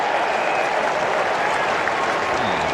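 Football crowd at an Adelaide versus Fremantle AFL match roars and applauds in a sustained, loud wash of cheering and clapping that fills the whole stretch without a break.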